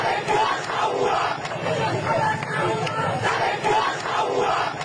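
A street crowd in Bangladesh chants a political slogan in rhythmic, repeated bursts of many voices shouting together, loud and close, rising and falling in a steady cadence.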